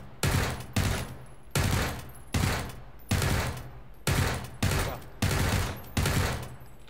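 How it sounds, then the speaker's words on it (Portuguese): Bursts of gunfire from PUBG, a run of about nine loud, evenly spaced broadband shots fired in quick succession with no talk over them. "Tem outro me atirando, me ajuda."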